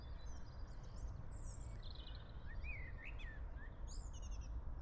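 A blackbird sings outdoors, its fluting phrases fairly faint over steady low background noise and wind-like rumble, with other small bird chirps scattered through.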